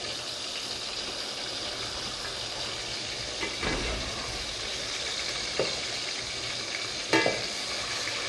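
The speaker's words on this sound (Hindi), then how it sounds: "आराम आराम से फ्राई कीजिए, क्योंकि जब ज़्यादातर कोफ्ते जब हम फ्राई करते हैं तो ये खुल जाते हैं।" Chicken koftas frying in hot oil in a pan, a steady close hiss of sizzling throughout with a few soft bumps and clinks as they are moved, no voices.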